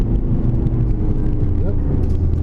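An Aston Martin, a Vantage or DB11, drives on the Sepang circuit with a loud, steady engine drone close by. A brief rising swoop passes near the middle, and voices talk over it.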